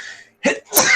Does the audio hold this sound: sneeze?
yes